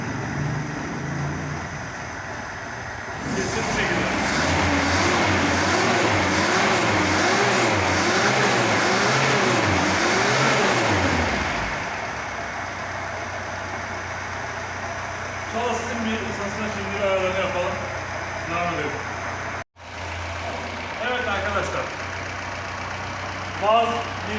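A Lada VAZ 2105 with a belt-driven engine revs hard through several rising and falling surges, then settles into a steady idle while people talk over it near the end.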